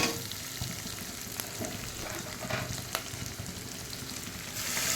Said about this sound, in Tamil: அதனால் வந்து இப்படி நல்லா வதக்கிக்கிறேங்க